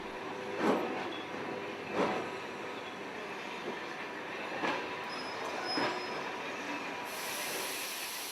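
A Trans-Siberian train rolls and grinds along a station platform with metallic squealing and periodic clanks from the wheels, steady rumble throughout, no voices.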